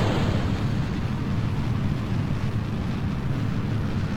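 A steady, loud, sustained roar of rocket explosions from Kerbal Space Program, a dense low rumble that holds constant without pause or voices.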